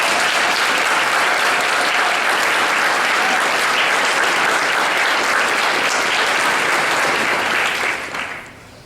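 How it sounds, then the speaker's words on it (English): Applause for firefighters, both new and veteran, at a township trustees meeting: a dense, steady round of clapping from a roomful of people that holds strong for about eight seconds before tapering off at the end. "I'd just like to give all of our firefighters, new and more mature, a little round of applause this evening"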